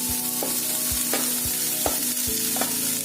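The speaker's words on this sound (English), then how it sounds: "So as they have already boiled the sweet corn, so we just need to give it a mix." Sweet corn and mushrooms stirred in a hot pan for pizza cup filling, with a spoon scraping and tapping in a steady rhythm over a constant close sizzle, no voices.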